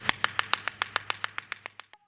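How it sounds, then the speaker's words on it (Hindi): A steady run of about a dozen sharp, evenly spaced hand claps at close range, slightly slowing and softening before stopping abruptly, with no voices. "तालियां इन पुलिस वालों के लिए"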